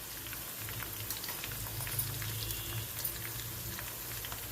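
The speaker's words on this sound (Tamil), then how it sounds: "இப்போ இது நல்லா கொதிக்கிட்டோம்" Herbal oil for a pain-relief balm bubbling steadily in a pot with leaves, a continuous crackle and pop of boiling, close and even, with no voices.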